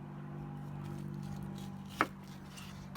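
One sharp knife chop through an onion on a cutting board lands mid-clip, a single crisp thud against a steady low kitchen hum, with no talking.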